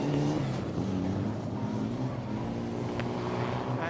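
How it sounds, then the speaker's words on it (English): A rallycross buggy at a Race of Champions event, its engine a loud, continuous rasping drone with shifting pitch throughout, heard from close range with no speech. "And so much grip you can see with this buggy."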